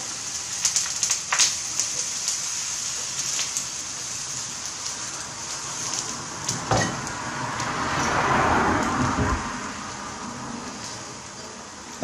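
Crepe batter sizzles in a hot pan, a steady close hiss with scattered crackles, swelling louder for a few seconds toward the end as more batter spreads.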